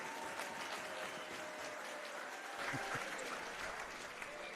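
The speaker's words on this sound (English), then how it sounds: "let's have a nice round of applause for both fighters, please" A boxing crowd at the Hilton in downtown Tampa applauds both fighters before the decision, continuous distant clapping from a large audience with faint crowd murmur mixed in.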